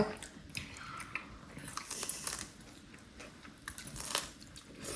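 Crunchy spicy cabbage kimchi from the Gangwon highlands being chewed close to the microphone: repeated wet crunching bites and squishy mastication in an irregular rhythm.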